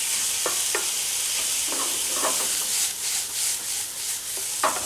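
Mushroom and wine-seasoned pasta sauce ingredients being stir-fried in a pan sizzle steadily, with repeated scraping stirs of a utensil against the pan at an uneven pace and no talk.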